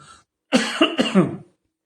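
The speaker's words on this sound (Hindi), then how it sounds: "माफ कीजिए, मुझे खांसी आ गई।" A man coughs several times in a quick, close, loud series, with a short breath just before.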